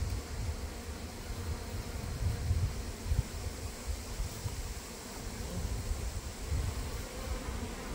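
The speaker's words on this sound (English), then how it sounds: "I forgot my smoker, so hopefully the bees are nice." Honeybees buzzing around an open hive during a frame inspection without a smoker, a dense steady drone close by that swells slightly at moments, no talk.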